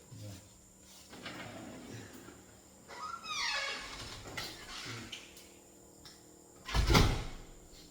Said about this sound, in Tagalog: Sinarado ko lang yung pinto, sorry kasi nag-i-echo.